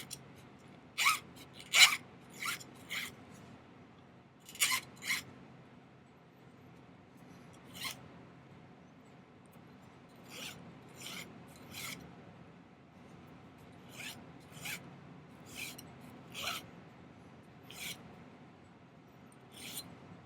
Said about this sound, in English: let's file it to where it's kind of angled inwards just a little bit